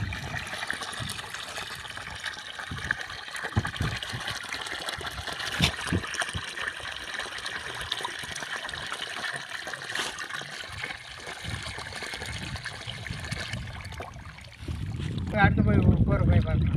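Water gushes steadily from a 1.5-inch outlet of a solar-pumped borewell in Sivakasi, making a continuous broadband rush at close range. A deeper, rougher surge comes in near the end.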